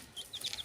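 Colourful young chicks give several high, thin peeping chirps in quick succession, faint and close, with no talking.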